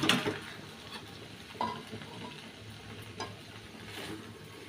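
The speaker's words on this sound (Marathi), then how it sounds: "आता आपण तिला काढूया प्लेटमध्ये।" Cooked okra (bhindi bhaji) is scraped from a pan onto a plate, with a soft sizzle underneath and a few scattered scraping and clinking strokes of a utensil.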